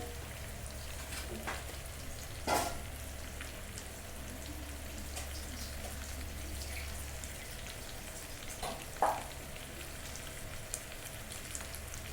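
Fish pieces fry in a pan for a spicy fish curry, giving a steady soft sizzle throughout with two brief clatters from turning or handling the pieces, and no talking.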